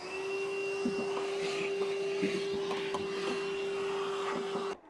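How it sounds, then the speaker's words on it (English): A vacuum cleaner runs steadily and close, cleaning up sanding dust inside a vehicle during a car audio speaker installation, a constant whine with rattling debris pickup before cutting off at the end. "I'm going to take a vacuum and I'm just going to clean up our little bit of mess we left in the bag."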